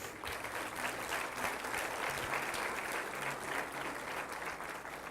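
A church congregation claps steadily for King Jesus, a dense sustained wash of many hands filling the room, fairly distant and even, with no voices standing out.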